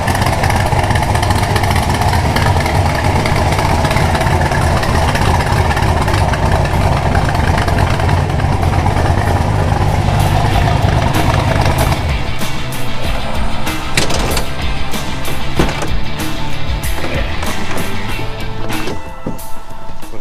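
A 1966 Chevrolet Corvette Stingray convertible's engine runs loud and steady, a dense rumbling idle that shifts to a rougher, more uneven tone partway through with no talk over it.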